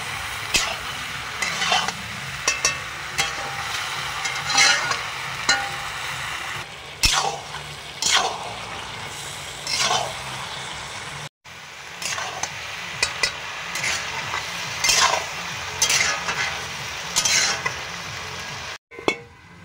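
Meat stir-fried with fried potatoes and lightly fried, crushed garam masala in a home kitchen: steady close sizzling with repeated scraping stir strokes, two brief dropouts, no talk.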